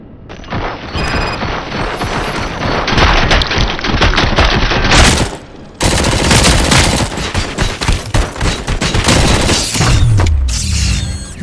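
Gunfire in the video game RoboCop: Rogue City: loud, sustained bursts of automatic fire with booming impacts and mechanical clatter, a brief pause, then renewed heavy shooting that tails off near the end.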